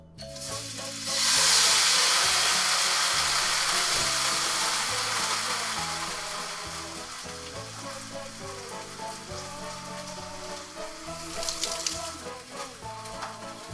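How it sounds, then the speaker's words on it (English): Shrimp sizzle loudly in a tablespoon of oil in a hot wok, a bright, steady frying hiss that starts abruptly, then settles into a continuous crackle with occasional stirring clatter and brief louder spits near the end. "Once you have a pan or wok that is rather hot, with a tablespoon of oil, we are going to cook the shrimp."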